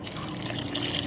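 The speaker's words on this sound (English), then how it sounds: "Cover them over with some water," Water poured into a Dutch oven over cut potatoes, a brief steady splashing gush of liquid filling the pot, close and moderately loud.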